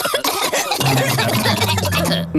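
Repeated coughing from cartoon pigs in a Peppa Pig episode about a cough spreading among grown-ups, sounding in close, busy bursts over music.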